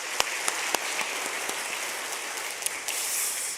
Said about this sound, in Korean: 한번 축복의 박수 해주시면 감사하겠습니다